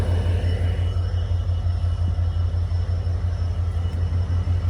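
The Yal Devi Express diesel train rumbles at Maho station in Sri Lanka as it prepares to depart, a loud, steady low engine drone with a constant tonal hum and no talking.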